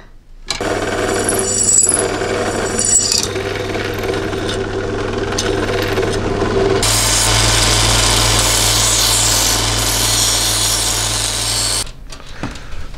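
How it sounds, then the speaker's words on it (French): A drill press bores through a steel knife blade forged from an old rusty shovel, giving a loud, steady mechanical whine and grinding that grows harsher and denser partway through, then stops abruptly. "J'ai jamais vu une perceuse à colonne qui perçait aussi de traviole."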